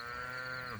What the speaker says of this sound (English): But all the cows and calves are now happy.